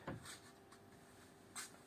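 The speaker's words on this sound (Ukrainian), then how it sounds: "дверки на цих защолочках закриваються дуже плотно" The door of a homemade pollen drying cabinet, fitted with a rubber seal and latches, shuts with a sharp knock, followed by a second firm clunk over a quiet room.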